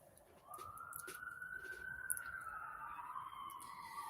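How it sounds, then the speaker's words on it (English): A faint, distant police siren rises and holds its wail over low background noise, with soft bird calls nearby. "Oh, there's more sirens."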